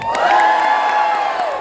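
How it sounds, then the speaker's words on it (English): A short burst of game-show audience cheering and shouting on a cruise ship, loud and sustained, with a few sharp claps punctuating it. "Clap, cheer, scream, shout, whoop, holler, whatever you've got"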